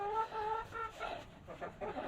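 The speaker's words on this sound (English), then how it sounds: "flocks of chickens" Backyard laying hens cluck softly in their coop, with a few tonal, drawn-out calls followed by overlapping quieter clucks, fairly faint and close by.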